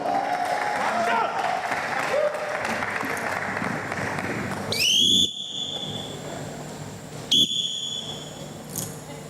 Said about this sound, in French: On acclame pour Malebo.